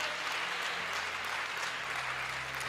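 Church congregation applauding in praise during a service, a soft, steady wash of clapping heard from a distance with a low hum beneath.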